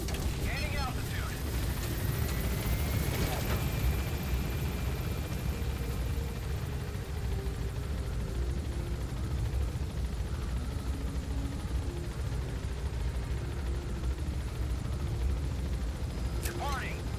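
A helicopter lifts off in the video game Metal Gear Solid V, a continuous low rotor drone with a rising whine, steady and fairly loud under a brief radio voice.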